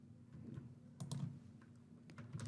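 Soft clicks of keys being typed on a computer keyboard while an email address is entered, a few scattered taps then a quicker cluster, quiet and close with no talking.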